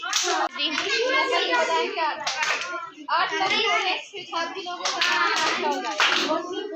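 Rhythmic hand clapping from women practising garba and dandiya dance steps, mixed with continuous voices and singing-like chatter that runs over the claps throughout.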